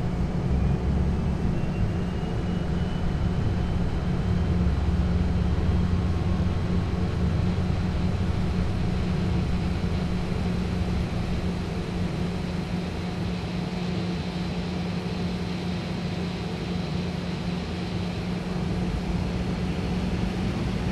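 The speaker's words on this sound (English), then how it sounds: "Starting engines. Before start checks complete. Start number 1." Boeing 737-800 jet engines spooling up during start in the FSX flight simulator, a steady loud broadband roar with a low rumble and a faint rising whine, continuous throughout with no talking.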